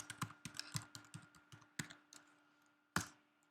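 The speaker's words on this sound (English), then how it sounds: "You won't see these keys being entered." Computer keyboard keys are typed in a run of about a dozen sharp, close clicks at an uneven pace, with a quiet pause before a final louder key press.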